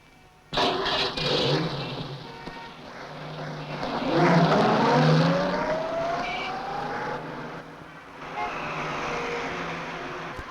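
A taxi engine starts abruptly and the car pulls away, the revs climbing in a rising whine, then settling into a steady driving drone with road noise.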